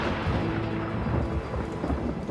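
Steady rain with deep rolling thunder over a small patch of desert, a continuous loud wash of rumble and patter with no pauses or voices.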